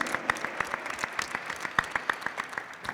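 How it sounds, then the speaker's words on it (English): Audience applause at a music industry panel event, a steady patter of many hands clapping close by with sharp individual claps standing out, no voices. "Give her a big round of applause."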